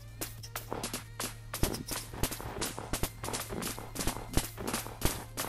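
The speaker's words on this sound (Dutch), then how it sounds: "ik heb eventjes het geluid volledig omhoog gezet om eventjes het geluid van konijnen te laten horen." Rabbits hopping in Minecraft make a rapid, busy run of soft thumps and patters, irregular and fairly close, continuing throughout over a low hum.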